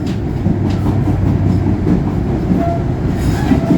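Inside a carriage of the Cikuray passenger train running on rails in Indonesia: a steady, loud rolling rumble with faint rattles throughout, and no voices.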